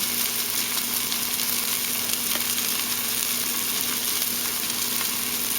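Greens with pepper and rosemary sautéing in a pan, a steady close sizzle and crackle of frying that holds evenly throughout without talk.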